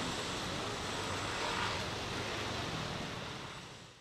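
Park fountains and pools at Canary Wharf give a continuous, even rush of splashing water, fairly close, holding steady before easing off slightly at the end, with no voices.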